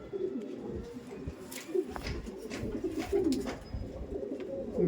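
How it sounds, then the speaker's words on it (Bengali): Old Madras pigeons coo in soft, repeated rolling calls at close range, layered over steady background hum with no talking. "এই ছিল পায়রাটা"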